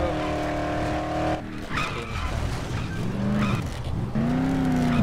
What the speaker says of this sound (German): Du wolltest unbedingt mit einem kaputten Auto fahren.